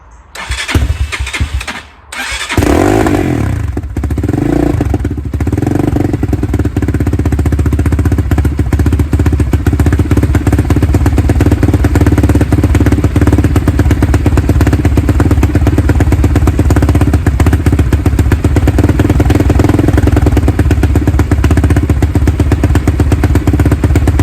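10Ten 250 RX dirt bike engine starting with a few cranking thumps, then catching and settling into a steady, loud, close idle that runs on without talk.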